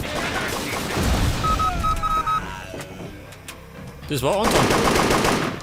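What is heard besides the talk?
gunfire in video game Übersoldier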